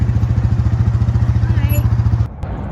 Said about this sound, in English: right before an engine cuts through the silence